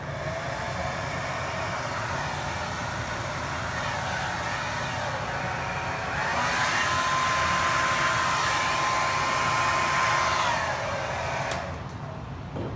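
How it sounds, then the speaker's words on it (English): A hair dryer blows over wet acrylic pour paint with a steady, loud whoosh, its pitch and strength rising midway before cutting out near the end. "we're gonna try the hair dryer"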